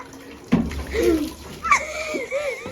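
Water runs from a tap in a short, uneven splashing burst, with a voice and other vocal sounds breaking in over it.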